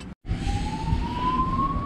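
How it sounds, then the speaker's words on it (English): Emergency vehicle sirens carried from a distant highway, one rising wail slowly climbing in pitch over a steady low rumble after a brief cut at the start. "It's where those sirens seem to be coming from."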